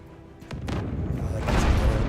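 Ship cannon fire in the naval video game Abandon Ship: a dull boom followed by rumbling blast noise that swells and lingers for about two seconds, with no talking.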